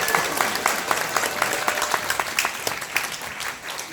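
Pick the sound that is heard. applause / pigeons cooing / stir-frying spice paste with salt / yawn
applause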